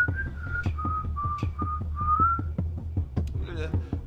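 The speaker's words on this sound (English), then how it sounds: "Day in and day out, I would just whistle over and over." A person whistling a slow tune close by, a string of clear held notes with slight pitch slides, over steady low background noise with a few knocks and a brief rougher breathy sound near the end.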